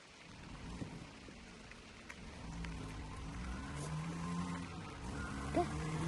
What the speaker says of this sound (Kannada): ಮಳೆ ಬೀಳ್ತೈತೆ ಅಂತ ನಿಂತೋಗ್ಬಿಟ್ಟೈತೆ, ಆದ್ರೂ ಬೀಳ್ತೈತೆ ಅಂತವ್ರೆ